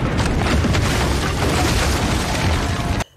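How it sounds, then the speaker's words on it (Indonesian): A loud, sustained cannon blast, dense and rumbling throughout, cutting off abruptly at the end. "tembakan meriam menghancurkan sebuah pos keamanan"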